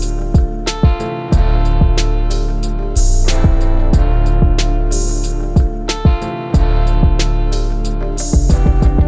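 A hip hop beat pounds out deep, booming 808 bass notes under crisp, rapid closed hi-hats and punchy drum hits. It loops steadily, loud and upfront, with no voices.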